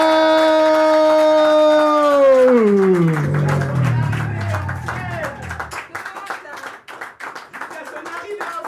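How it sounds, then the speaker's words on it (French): An audience at a slam poetry tournament in Antibes claps hard to welcome a slammer onto the stage. A sustained voice or tone fades out early, then dense rhythmic clapping builds and carries on alone. "Je vous demande d'applaudir très très fort jusqu'à son arrivée en scène"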